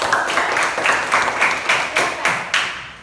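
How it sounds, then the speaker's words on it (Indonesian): Classroom audience clapping for a presenting group of students, a dense burst of applause with several sharp, rhythmic claps rising above it, steady and fairly close, with no talk. "kita kasih aplaus untuk kelompok"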